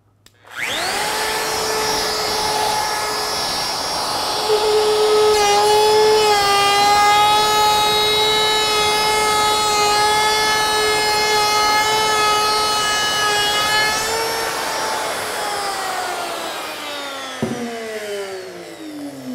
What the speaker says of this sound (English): let me run a simple climb cut